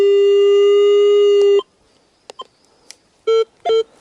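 A metal detector searching a Carpathian forest sounds a long steady electronic tone over a target, then several short beeps and a pair of brief tones follow after a quiet gap, with no talk.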